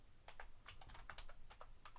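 Rapid keystrokes of code being typed on a computer keyboard, a steady run of crisp, close clicks with uneven rhythm over a quiet low hum.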